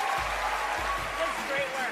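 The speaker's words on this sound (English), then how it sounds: "A small round of applause." A small audience gives a brief round of applause after a card magic trick, a dense even patter of claps from close by that holds steady throughout, with voices under it.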